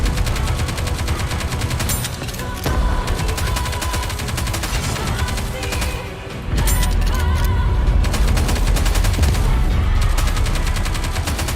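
Rapid, continuous gunfire in the video game Nikke, dense machine-gun bursts hammering loudly almost throughout, with a brief lull near the middle before the firing resumes even heavier.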